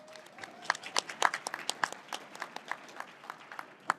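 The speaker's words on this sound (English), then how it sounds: "Let's give ourselves a round of applause." An audience at a judicial conference session applauds itself with a crisp patter of many hands. The claps are moderately loud and fairly even, with a few sharper nearby claps standing out.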